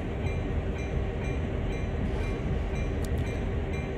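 A train in the Train Sim World video game rolls along with a dense, steady rumble and a faint tonal whine, constant and fairly loud throughout.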